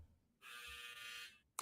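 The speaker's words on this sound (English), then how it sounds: "That was my dryer, ladies and gentlemen." A clothes dryer buzzer sounds one steady, harsh electronic tone lasting about a second, fairly loud against a quiet room, followed by a brief click.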